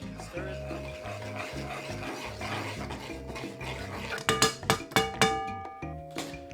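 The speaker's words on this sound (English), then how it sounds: "Stir it around." Utensil scraping and clinking against a pan while soy sauce and hot sauce are stirred and heated, steady stirring with a low sizzle, then several sharp metallic knocks near the end.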